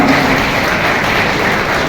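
An audience applauding at a Holi poetry gathering in Pune, a loud, steady wash of clapping from many hands throughout.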